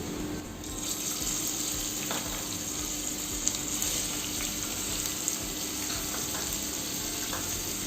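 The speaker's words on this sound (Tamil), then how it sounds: "ஆனியன் நல்லா கோல்டன் ப்ரௌன் அளவுக்கு நல்லா வறுத்துக்கணும்" Onion and curry leaves frying in oil in a kadai, a soft continuous sizzle with faint crackles and light stirring, steady and close without speech.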